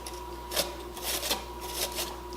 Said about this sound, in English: Take your zucchini and grate it.